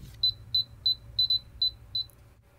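An AWID LR sounder emits a series of loud, sharp, high-pitched beeps, eight in quick succession, each marking a tag being read, over a quiet background.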